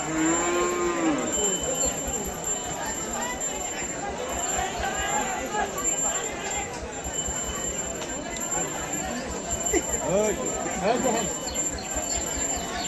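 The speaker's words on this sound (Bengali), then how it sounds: "সোহাবপুর বাজারে অনেক ভালো ভালো গরু উঠছে" Cattle moo repeatedly at a busy livestock market in Sohabpur, Sirajganj, where cows are sold ahead of Qurbani, with a crowd chattering and calling throughout the scene.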